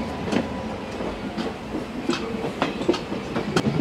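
The Satavahana Superfast Intercity Express leaves Vijayawada Junction and crosses over points onto another line, its wheels giving a rapid, irregular clickety-clack over the joints against a steady rumble, heard from on board.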